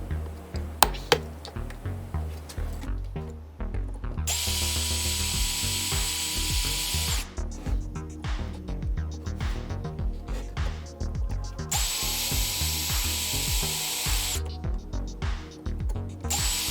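A hole is drilled into a sterling silver 925 name tag, producing a rapid ratcheting, whirring grind that starts and stops in bursts with short pauses in between, heard close up.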